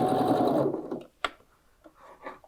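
A sewing machine runs a continuous stitching burst along a tote bag seam for a moment, then stops, followed by a sharp click and soft handling noises.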